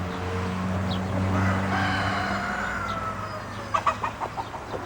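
Farmyard chickens cluck, with a drawn-out rooster crow in the middle and a quick run of sharp clucks near the end, all fairly close and loud.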